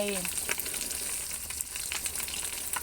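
Omelette with boiled red ant eggs frying in hot oil, a steady broadband sizzle that fills the whole stretch, close and fairly loud, with no talk over it.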